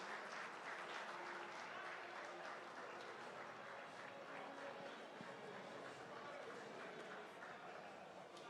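Sustained audience applause at a soccer awards ceremony, steady and dense clapping from a large crowd filling the whole stretch without a break.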